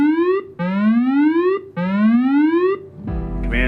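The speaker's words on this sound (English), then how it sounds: "if the alarm goes off, we're launching" A whooping alarm sounds at a Coast Guard air station: three loud rising sweeps, each climbing steadily before cutting off, followed by a brief burst of harsher mechanical noise.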